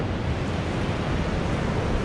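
Rushing whitewater waves on the Orange River roar close by in a dense, constant wash of noise, loud and unbroken with no talking.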